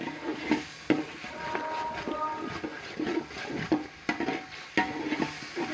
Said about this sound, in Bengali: আমি নাড়িয়ে নিচ্ছি